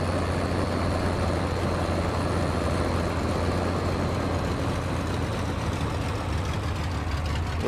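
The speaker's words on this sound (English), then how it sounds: "Got a new Oliver tractor here." An Oliver 1855 tractor in Farming Simulator 22 drones at a steady idle, a continuous even engine hum with a low throb that holds unchanged throughout, with no talking.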